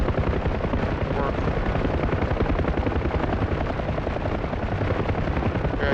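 A door-mounted machine gun rattles off a long, rapid, continuous burst of tracer fire from a UH-1H Huey helicopter in the DCS combat flight simulator, blended with the steady rotor and engine drone.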